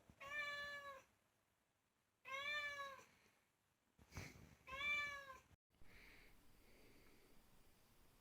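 A cat meows three times at close range, each call clear and drawn out with quiet pauses between, followed by soft breathing or snuffling sounds.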